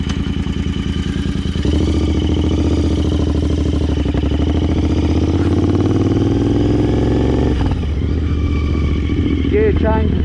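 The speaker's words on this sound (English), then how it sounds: "Got a lot of torque in this 650cc engine." A 2019 Royal Enfield 650cc twin motorcycle engine revs loudly up close, its throbbing tone climbing steadily through a long pull before dropping at a gear change, with a voice briefly heard near the end.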